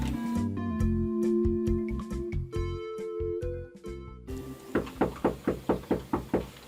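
Eight firm, evenly spaced knocks land on a door near the end of a drama scene. They follow a stretch of background music and ring out loud and close, with no talking over them.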